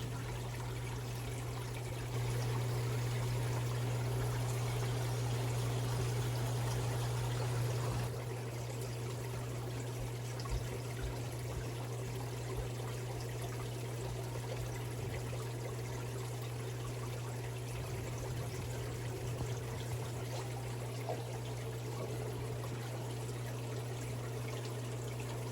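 Water pours steadily into a fish tank during a water change for Congo tetras, a constant close trickling rush that continues without pause, accompanied by a low steady hum.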